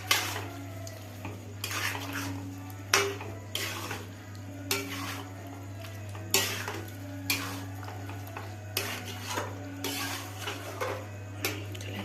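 Chicken meat is stirred in a cooking pot, with a metal spoon scraping and clanking roughly once a second over a faint sizzle and a steady low background hum.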